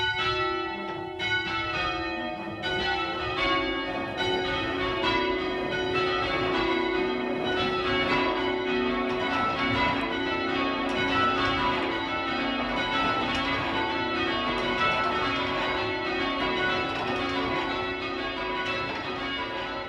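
Church bells rung by a band of bell ringers from a local branch, a continuous dense peal of overlapping tolls filling the whole stretch at steady loudness with no voices.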